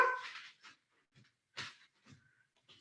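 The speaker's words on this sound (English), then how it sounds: "apologize for the barking" A dog barks in a few sharp, separate yelps with quiet gaps between them, faint and somewhat distant in an otherwise quiet room.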